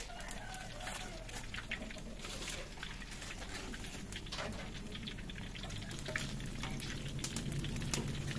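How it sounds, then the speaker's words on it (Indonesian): Food sizzles and crackles steadily in a frying pan in a home kitchen, with occasional stirring clatter, a rooster or fowl calling in the background and people chatting nearby. "Baru mau goreng Mas ya"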